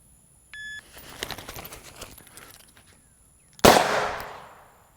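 A Smith & Wesson Model 69 Combat revolver fired outdoors in bear country gives one loud, sharp shot with a decaying tail, after a brief beep and some rustling handling.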